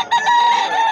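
A chicken at the Bocaue pet market gives one loud, drawn-out, nasal call close by, a single sustained squawk lasting under a second.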